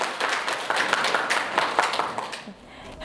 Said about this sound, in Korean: 박수로 마무리하겠습니다